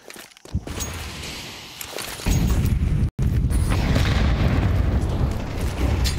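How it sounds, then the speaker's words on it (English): A frag grenade detonates in a Counter-Strike match at IEM Dallas 2024, a loud booming blast followed by a sustained heavy rumble with a brief dropout in the middle, no voices over it. "Sin pelted by the frag grenade."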